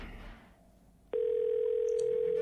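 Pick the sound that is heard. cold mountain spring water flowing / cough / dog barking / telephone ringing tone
telephone ringing tone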